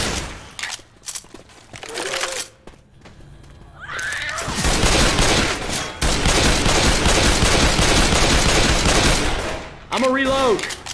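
Rapid gunfire in the zombie shooter Left 4 Dead 2, a dense sustained burst of automatic shots lasting several seconds, with scattered shots and game voices before and after.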